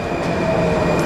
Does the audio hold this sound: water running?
no